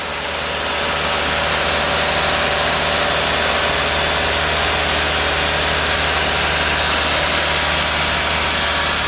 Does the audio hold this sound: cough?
no